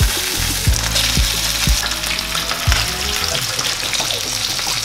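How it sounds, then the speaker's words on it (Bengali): Tangra fish fry in hot mustard oil with a loud, dense, close sizzle, punctuated by a few dull knocks from the pan or utensil. "এখন ট্যাংরা মাছগুলোকে ভেজে নেব।"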